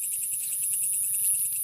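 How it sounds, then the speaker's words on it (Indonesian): A kaliong field cricket calling at night, its shrill, rapid pulsed chirps repeating steadily and close, with a faint insect background beneath and no voices. "Kalau jangkrik yang ini tuh agak lumayan langka dan bunyinya itu sangat nyaring teman-teman."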